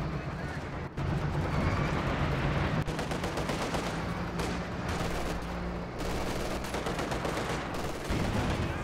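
Dense, sustained heavy machine gun fire from a Company of Heroes 2 World War II battle, a loud continuous rattle of rapid bursts filling the whole stretch with hardly a pause, with faint battlefield rumble underneath.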